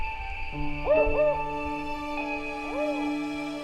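Spotted owl chick calls in a Big Sur redwood forest: a few rising-and-falling tonal calls, two close together early and another later, moderately near over a low steady hum.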